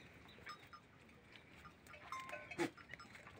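A goat among a herd kept on a dry farm in July gives a faint, brief call, with a slightly louder burst near the end over quiet outdoor background noise.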